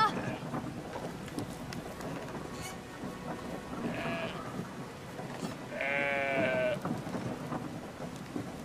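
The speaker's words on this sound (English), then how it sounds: "Stop petting the sheep." Sheep bleating in the video game Brothers: A Tale of Two Sons, two short nasal bleats a couple of seconds apart over steady rain and rumbling ambience.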